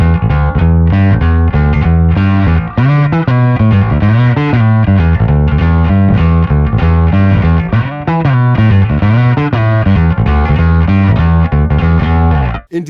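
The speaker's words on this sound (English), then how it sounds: "Here's one of my favorite, the X Comp combined with the X Drive." A bass guitar is played through a Boss GX-1B multi-effects unit on a preset combining the X Comp compressor with the X Drive, giving a loud, thick, gritty distorted tone in a continuous riff with sustained notes.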